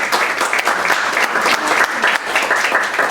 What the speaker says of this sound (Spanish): pido un fuerte aplauso de bienvenida a nuestro evento